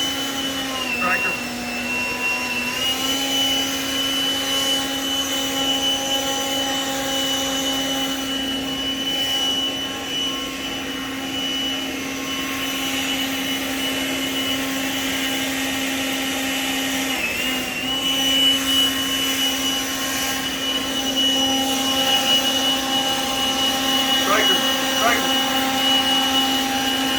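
A leaf blower runs steadily near a puppy, a continuous droning whine with a strong tonal hum that holds at a fairly even level throughout, with a few faint background sounds.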